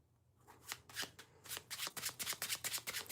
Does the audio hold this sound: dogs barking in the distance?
no